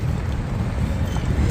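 Strong wind buffets the microphone aboard a ship, a steady loud low roar with gusty rumble and no voices.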